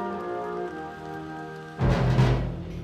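Heavy rain hits the ground outdoors during a town's anniversary ceremony, coming in as a sudden dense hiss that swells after a steady tone and stays loud to the end.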